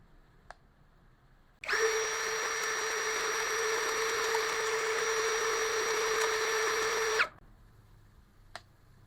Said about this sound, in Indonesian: sekarang kita akan tes RPM dari bore impact yang satu ini ya